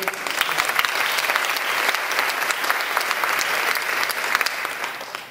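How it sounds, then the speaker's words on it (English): Audience applause at a women's fund forum on mental health, a dense, steady roar of many hands clapping that holds loud for several seconds before easing slightly at the end. "Let's give that person a round of applause."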